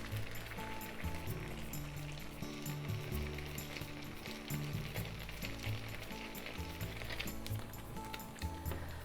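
Shrimp and coriander gyoza dumplings sizzle and crackle steadily in a frying pan as water evaporates, continuous throughout with a low background hum and no talking.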